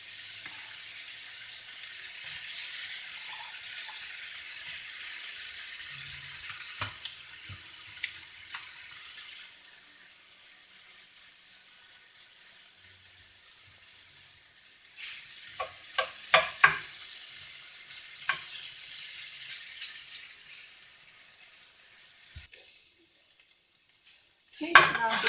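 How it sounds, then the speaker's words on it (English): Diced ham sizzles while frying in a hot pan for a ham hash, a steady quiet hiss broken by scattered clinks of a utensil against the pan, busiest toward the end. "Hear that sizzle."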